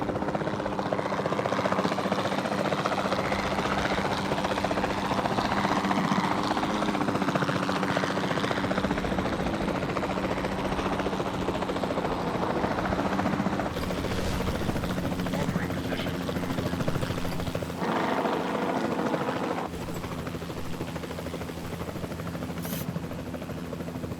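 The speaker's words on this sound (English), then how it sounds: "Then the sensible thing is to take a capture team helicopter." A capture team helicopter in the dinosaur park game Jurassic World Evolution 2 drones loudly and steadily from nearby for the whole stretch, its rotor chop and engine whine continuous.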